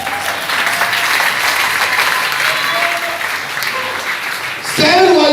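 Sustained applause from a church congregation, a dense even wash of clapping that rises briefly at the end, with a voice and faint singing-like tones mixed in.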